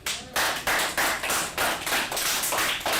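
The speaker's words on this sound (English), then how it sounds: "Clap it up." A class claps in a loose rhythm, about a dozen sharp, loud bursts in quick succession, close by and with no talk over them.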